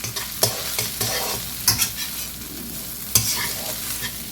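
Rice stir-fried in a wok for shrimp fried rice sizzles steadily while a spatula scrapes the pan in sharp, irregular strokes, close and loud with no talking.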